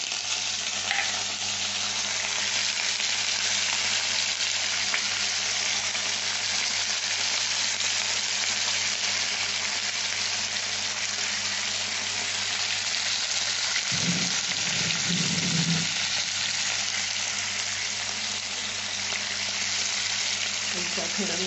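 Salted potato pieces fry in hot oil with a steady, loud, close sizzle throughout, a brief clatter of stirring near the middle.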